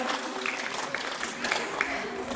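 Applause for a team at a community event in San Juan Lajarcia, a steady dense wash of clapping from a crowd with a voice announcing over it.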